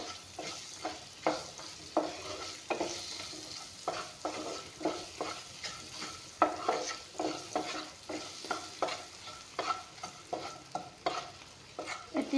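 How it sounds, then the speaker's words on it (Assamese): Red chili frying in a pan as the base for a fish curry, a soft steady sizzle broken by rhythmic scraping stirs of a spatula, close and quiet, no talking. "এতিয়া ৰংগুড়াখিনি দি অলপমান ভাজি ল'ম।"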